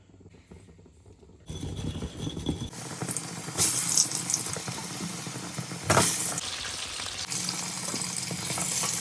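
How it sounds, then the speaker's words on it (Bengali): Dried red chillies hit hot oil for a mutton dish, setting off a sudden loud sizzle that keeps crackling, with sharper flare-ups a couple of times as the frying goes on. "শুকনো লঙ্কা পড়ছে।"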